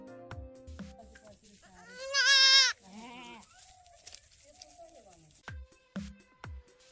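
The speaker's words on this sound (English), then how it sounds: "G for goat." Goat bleating once, a loud wavering cry in the middle, surrounded by softer sounds and intermittent tones.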